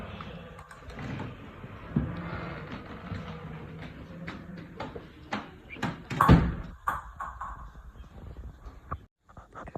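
A library door is opened as someone walks in, giving muffled handling and a heavier thump partway through amid indoor rustling and movement noise.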